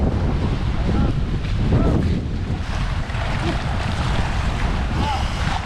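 A fishing boat motor drones steadily amid gusting wind and lapping water in Camarines Sur, Bicol, fairly loud and close, with no talking.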